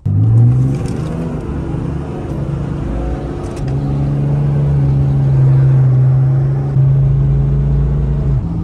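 A Cummins diesel truck in four-wheel drive rumbles at the drag strip, its deep engine note building into a loud, sustained roar as it launches, heard close with no talk.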